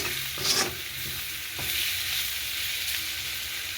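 Vegetables fry in a pan with a continuous crackling sizzle as a spoon stirs them, sending out short scraping strokes and a brief sharper clatter near the start.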